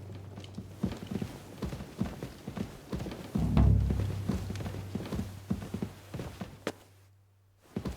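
A horse from the Kingdom Come: Deliverance 2 video game walking at a steady clip-clop, hooves landing close and evenly over a low hum, with a brief louder thump partway and near silence at the end.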